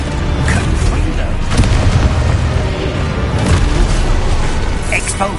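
Confringo fire spell explosions rumble in the Hogwarts Legacy video game: a dense, loud, continuous low booming battle din with crackling bursts, under shouted speech.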